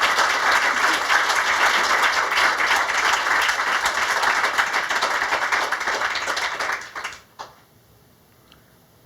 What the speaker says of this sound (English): Please, some more applause for Meilani Clay.